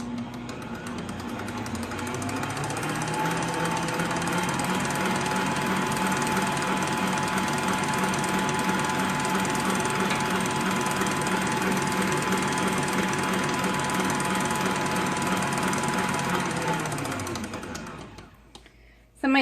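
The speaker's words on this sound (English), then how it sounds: "let's turn this on and blend it up" An electric mixer blends Hershey bar cake batter, starting with a rising motor whine that holds a steady, loud mechanical hum for about fifteen seconds before spinning down and stopping, with no voices over it.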